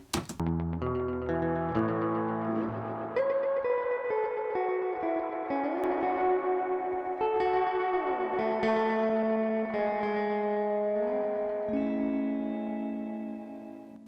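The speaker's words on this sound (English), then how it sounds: "This is kind of a funky electric guitar, not a traditional electric guitar." An electric guitar through a Retrograde RGE 864U effects pedal plays a sustained, shimmering line heavy with echo, chorus and distortion, notes bending and overlapping continuously throughout.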